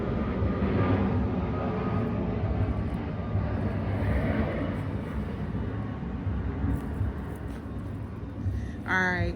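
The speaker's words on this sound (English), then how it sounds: "sorry for the airplane. Let's let it go by." Airplane passing overhead outside a home, a loud broad roar that holds steady for several seconds and slowly shifts, with a brief bright whine near the end.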